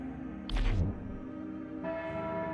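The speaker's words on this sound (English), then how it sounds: "Someone ringing the bell here." A single chapel bell in the game Lucifer Within Us strikes loudly and rings out, its tone lingering over a steady low hum and faint background ambience.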